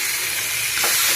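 Onions and tomatoes frying in hot oil for a tomato sambar, a steady hissing sizzle that swells slightly near the end, heard alone without voices.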